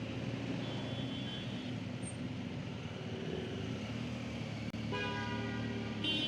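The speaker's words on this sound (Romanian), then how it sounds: "No, deja primele claxoane." Car horns honk in congested city traffic in Kyrgyzstan, a steady drone of engines with a short honk early on and a longer, louder blast of horns near the end, heard from inside a vehicle with no talking.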